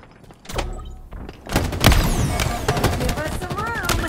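Machine gun fire in a Halo-style multiplayer match: bursts of rapid shots crack through a busy, loud game soundscape with impacts, thuds and electronic effects, and a voice is heard briefly.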